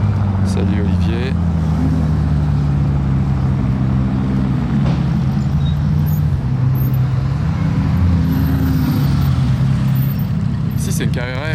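A Porsche Carrera 2.7 RS rolls past in a Paris street parade: a low, steady engine rumble with gear changes shifting its pitch, close and loud against traffic noise, with people talking nearby.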